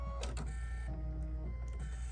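A sewing machine stitches fabric with matching top and bobbin thread for an Easter tiered tray project, giving a close, steady mechanical whir broken by short clicks and a brief pause, with no voices.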